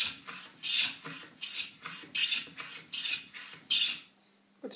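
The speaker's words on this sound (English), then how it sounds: "So now I can continue planing a full pass." Hand plane shaving a wooden chamfer on a clock project, six rhythmic rasping strokes in a steady back-and-forth cadence, close and clear, then a quiet pause at the end.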